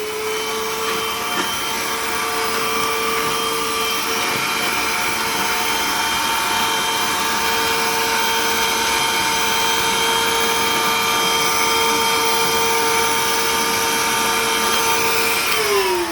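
A vacuum cleaner with a thin extension hose drones steadily while cleaning inside a bicycle tire before new tubes go in, a loud continuous whine with a sustained tone that drops in pitch at the end.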